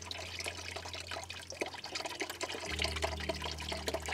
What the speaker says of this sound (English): From here I get my sieve because I want to remove this water